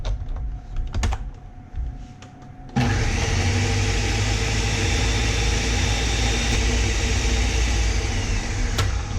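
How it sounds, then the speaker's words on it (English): A blender purees a small batch of Thai-style pork and beans. A few faint clicks come first, then the motor kicks in at about three seconds with a loud, steady whirring drone that runs unbroken to the end. "when you have a small amount in the blender, you might need to press everything down into the blades a couple of times."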